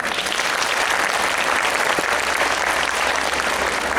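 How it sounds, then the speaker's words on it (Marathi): An audience at a lecture by a retired university professor claps steadily, a dense, even burst of indoor applause lasting several seconds. "टाळ्या वाजवा."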